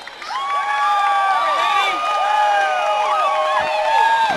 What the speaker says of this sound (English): You can hear the rush of the crowd behind me.